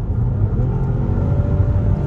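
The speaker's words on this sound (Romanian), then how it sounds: "Accelerezi. Motorul este bine antifonat, abia se aude." A Volvo S90 T8 accelerating in kickdown, its well-insulated engine giving only a muted, steady low rumble inside the cabin, with no voices.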